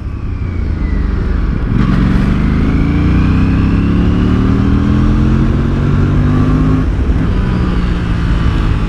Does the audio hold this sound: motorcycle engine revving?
yes